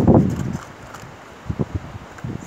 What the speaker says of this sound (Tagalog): minsan naman pag ganito, medyo tahimik, wala siyang hangin. Tapos minsan naman, bigla na lang lalakas.